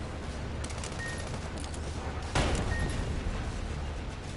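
A single sharp burst of gunfire in the video game Sandland, a loud close crack about midway through, set against a steady roar of ambient game noise.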